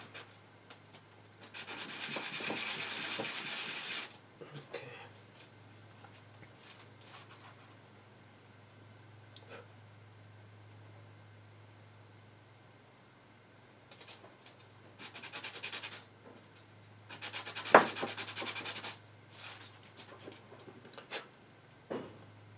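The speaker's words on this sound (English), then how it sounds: "Now what I'm going to do is just sand the base." Several bursts of gritty rubbing as the metal base of a jewelry bezel setting is sanded by hand, separated by quiet pauses, with a steady low hum and faint pigeon-like cooing in the background.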